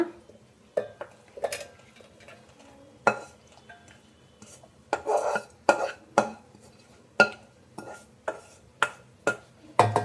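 A spoon scrapes fried masala out of a pan into a mixer jar, making a string of sharp metallic clinks and scrapes. The strikes come at irregular intervals in a quiet room, with no voices.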